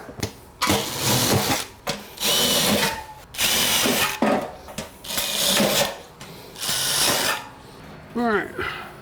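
A power drill whirs in repeated bursts of a second or so, pre-drilling wood, loud and close, with short pauses between runs and a brief voice near the end.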